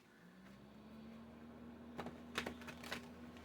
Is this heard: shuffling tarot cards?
yes